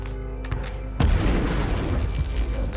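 A grenade explosion in the video game Medal of Honor, one deep booming blast that follows a lower rumble and then decays into a long noisy tail.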